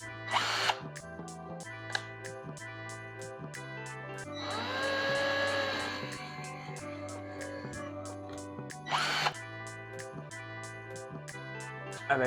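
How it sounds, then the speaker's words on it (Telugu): A power drill bores holes into a wall during home setup, whining steadily and rising into a louder, strained grind midway, with short sharp bursts near the start and end. "డ్రిల్ చేసేసి పెట్టేయడమే."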